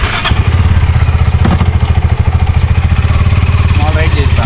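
A KTM 390 Duke Adventure motorcycle pulling away on a short ride, its single-cylinder engine thumping loud and close in a fast, steady beat, with a person talking over it.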